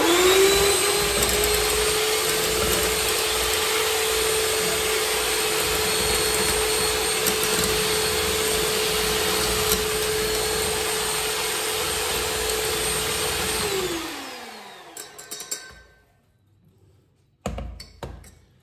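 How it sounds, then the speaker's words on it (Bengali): An electric beater whirs steadily through cake batter with oil just added, a loud continuous motor drone holding one pitch for about fourteen seconds, then winding down and stopping, followed by a few light clinks. "তেলটা দেওয়ার পর আবার একটু বিট করব"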